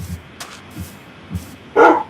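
Dogs barking in the Minecraft video game: a few short, sharp barks spaced apart, ending in a louder, fuller bark near the close, with no talk over them.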